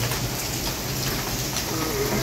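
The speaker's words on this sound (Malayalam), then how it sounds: "അല്ല, മഴയാണ്, മഴ മഴ മഴ മഴ." Steady rain pours down outdoors in Kerala, a dense continuous hiss close by with no let-up across the whole stretch and no voices over it.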